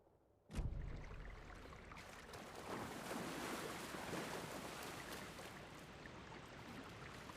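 Gentle lapping and rippling of lake water in Alan Wake II, a steady broadband wash with soft wind, starting abruptly and continuing evenly without talk.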